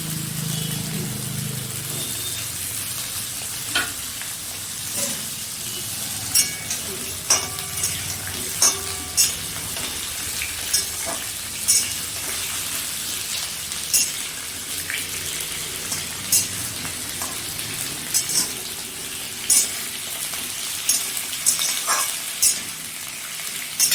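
Potatoes frying in a pan give a steady, dense sizzle throughout, broken by occasional soft clicks and knocks of stirring, close and unaccompanied by voices.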